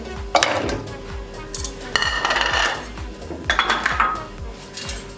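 Mutton chops tipped into a pan, metal clanks and rattling clinks of meat and utensil against the pan in quick clusters, close and fairly loud, with a low rhythmic thumping running underneath.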